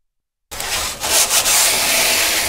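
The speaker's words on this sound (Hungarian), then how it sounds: "Csiszolják a stégfa elemeit a HMS ZRT szakemberei a téglagyári tanösvényen" Workers sand the wooden boards of a jetty on a brickyard nature trail, a steady abrasive rubbing that starts after a brief silence and continues loudly and evenly, with a few stronger scraping strokes.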